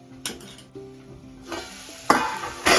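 An aubergine curry with spices being stirred in a pan, heard as several sharp scraping and clattering strokes against the metal between quieter gaps, with a faint sizzle underneath, close by and with no talking.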